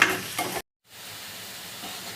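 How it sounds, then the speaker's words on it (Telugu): Onions frying in a pan for chicken curry, with a loud sizzle and stirring scrape at first, then a brief silence before a steady, quieter sizzle continues. "గోల్డ్ కలర్ వచ్చేదాకా వేయించుకోవాలండి."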